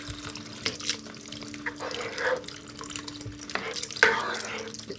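Stock being poured into a pot of Tuscan bean soup, a steady liquid splash and trickle with a brief louder gush near the end, close by and without talk.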